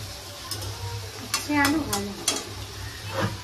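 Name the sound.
bitter gourd frying in a pan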